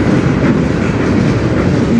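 A CN freight train rolls past on the Strathroy Subdivision, a steady, loud, continuous rumble with clickety-clack from the wheels and no voices over it.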